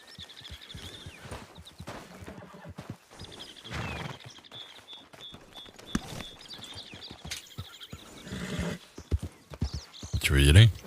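Horse hooves clop in an irregular rhythm, with rustling and movement noises and a loud burst near the end.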